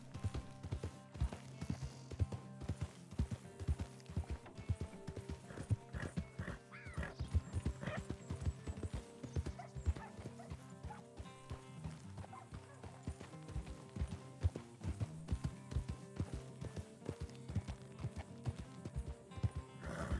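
A spurred horse in the video game RedM gallops with continuous rapid hoofbeats and neighs over a bed of background music and ambience, sustained throughout at moderate volume.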